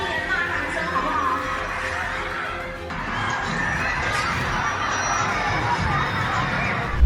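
Crowd at a zoo in chaos, a dense steady wash of shouting and screaming voices with excited babble throughout, fairly loud and continuous.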